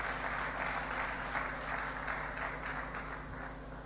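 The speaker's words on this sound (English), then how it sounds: "Yes, you can clap if you want to clap." Audience applause at the Bayelsa entrepreneurship and business innovation summit, a steady, fairly faint wash of many hands clapping in a large hall, continuing evenly throughout with a low electrical hum beneath.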